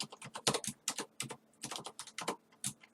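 Rapid typing on a computer keyboard: close, crisp keystrokes in uneven bursts with brief pauses between runs of keys, and no voices.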